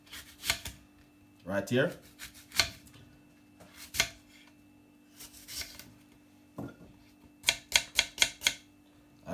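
An apple is chopped on a board in a kitchen, giving sharp knife strikes in irregular bursts, including a quick run of four or five cuts near the end. A voice speaks briefly between the strikes.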